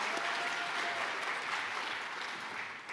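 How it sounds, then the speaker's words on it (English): A big audience claps in sustained applause at the 2022 APA Heritage Awards ceremony for an arts organization, a dense, even roar of hands that holds steady and fades slightly near the end, with no speech. "Another big round of applause to Kearny Street Workshop."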